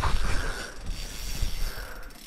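Fishing reel drag clicking while fighting a big burbot after dark, a rapid, faint ratcheting buzz heard close by over rustling, with no talk.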